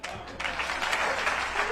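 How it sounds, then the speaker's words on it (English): Audience clapping at the closing of an economics conference, a brisk burst of applause building in after a moment and continuing steadily, moderately distant, with a voice briefly mixed in. "Now you can clap for me."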